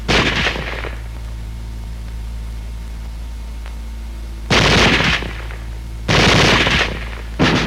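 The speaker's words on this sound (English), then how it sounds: "Weapons giving automatic fire will fire continuously as long as pressure is applied to the trigger or until the ammunition is exhausted." A World War II machine gun on automatic fire, three loud bursts of rapid shots, the first short and the next two about a second each, separated by stretches of low steady hum.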